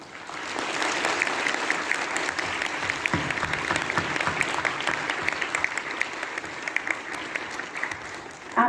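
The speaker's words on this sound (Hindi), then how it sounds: "एक बार हम कोरस में ज़ोरदार तालियों के साथ" An audience applauds steadily and warmly for the whole stretch, a dense continuous clatter of many hands at moderate distance with no voices standing out.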